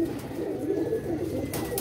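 Pigeons in a loft give soft, low cooing calls, a few murmured coos close by over a steady background hiss, ending with a brief rustle or flutter.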